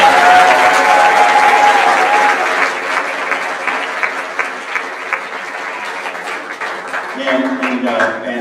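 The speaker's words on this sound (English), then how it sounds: "So let's give our boosters a nice round of applause." Loud applause from a band concert audience, a dense sustained clapping from many hands that gradually thins out, with a voice beginning to speak as it fades.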